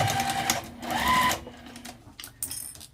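A sewing machine back stitches a fabric wristlet in short bursts, running forward, pausing, then stitching again in brief, close, stop-start runs.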